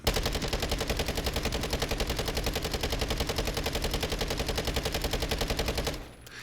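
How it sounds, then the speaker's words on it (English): The Minibak gun fires full-auto in a video game recoil test, a loud rapid unbroken burst of evenly spaced shots lasting about six seconds before cutting off. "let's do a quick recoil test"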